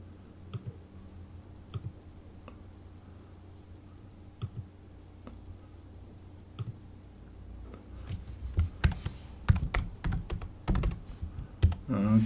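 A password is typed on a computer keyboard: sparse, quiet key clicks at first, then a quick burst of rapid, close typing near the end.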